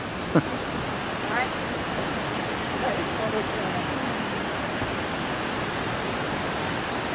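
Rushing water from Eagle Creek (Princeton Creek) near the Tulameen River gives a constant broadband roar, steady and fairly close, with a couple of faint brief knocks early on.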